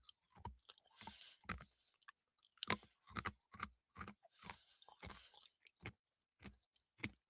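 Tums antacid tablets crunched between the teeth, a string of sharp, close crunchy bites in an uneven rhythm with short pauses, loud against a silent background.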